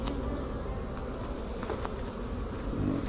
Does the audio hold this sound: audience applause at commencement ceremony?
no